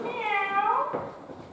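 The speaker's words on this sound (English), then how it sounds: "You've got a cat." A cat gives one clear drawn-out meow, close and fairly loud, falling away into quiet room sound.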